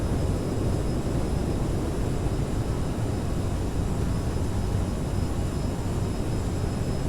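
A CRJ regional jet in Microsoft Flight Simulator roars with thrust reversers deployed after landing, a loud steady broadband jet rumble with a faint high whine, unbroken throughout.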